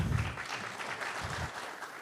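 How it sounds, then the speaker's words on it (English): A crowd applauds faintly in the distance, a soft patter of clapping at the opening remarks of a security conference. "So give them a round of applause"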